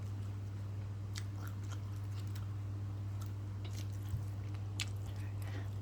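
Close, wet chewing and soft squishy bites from someone eating khanom chin rice noodles with a rich topping, with a steady low hum running underneath and a few sharper crunchy clicks scattered through.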